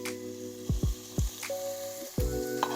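Vegetables sautéing in a pan for tempeh nachos: a steady soft sizzle with several brief clanks and scrapes of a utensil against the pan, close and moderately quiet.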